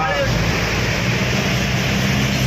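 Heavy rain pours down on a flooded road between Guruvayanakere and Belthangady in a loud, constant rushing hiss that fills the whole clip without letup.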